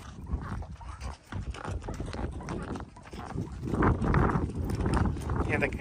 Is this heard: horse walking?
yes